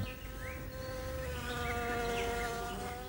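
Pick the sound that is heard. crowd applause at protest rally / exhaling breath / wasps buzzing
wasps buzzing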